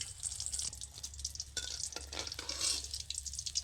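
Tomato chops frying in a pan of hot oil give a steady, close sizzle with light crackling that swells and fades across the stretch, and no one speaks.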